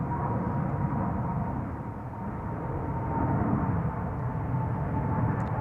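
A KLM Boeing 777-300 airliner passes at Schiphol Airport, its steady broad roar holding loud and even throughout, swelling slightly near the end, with no talk over it.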